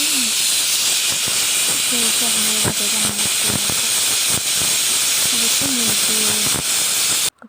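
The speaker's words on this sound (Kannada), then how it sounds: "ಕುಕ್ಕರ್ ಕೂಗ್ತು" A pressure cooker whistle shrieks and hisses with loud, continuous escaping steam through the whole stretch, cut off abruptly at the end, while someone speaks briefly over it.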